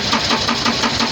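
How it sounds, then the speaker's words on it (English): The engine of a JCB backhoe loader cranks without catching: a loud, close, rhythmic chugging of the starter turning the engine over in even pulses, with no firing. "Okay, the engine is cranking but not starting."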